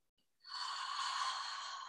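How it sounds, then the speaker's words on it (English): One slow, deep breath drawn close and softly during a guided breathing exercise, an airy rush that swells in and holds steady before easing, with no talking around it. "that's the moment to take one deep breath"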